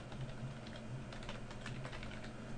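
Quiet, steady keystrokes on a computer keyboard, a close run of light clicking taps with no voices.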